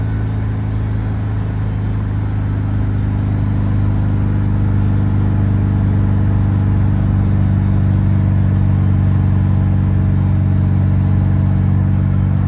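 A 1970 VW Bay bus cruising in fourth gear at about 55 mph gives a loud, steady engine drone and road rumble that holds even throughout.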